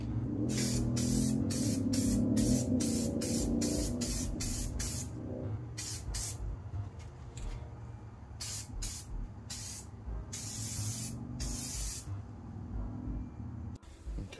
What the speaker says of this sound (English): It's just in a spray can, IMP 130 acid etch primer.